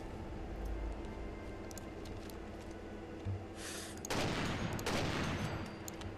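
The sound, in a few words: 50 caliber rifle gunshots in the video game Fallout 4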